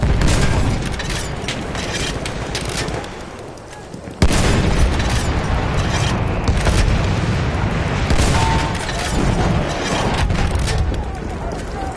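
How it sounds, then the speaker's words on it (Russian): Grenade blast and gunfire in a firefight. Dense, sustained bursts of shots and booms run throughout, with a sharp loud impact partway through, and voices shout over the din. "Ловите гранату!"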